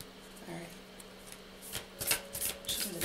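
Tarot cards being shuffled by hand: soft riffling and flicking that builds in the second half into a steady run of papery snaps, close up with no talk.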